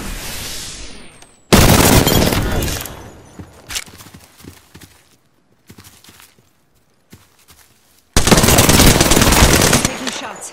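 Automatic gunfire in the shooter game Apex Legends comes as loud, dense bursts, with a long volley, scattered lighter shots and pauses, then a second heavy burst near the end.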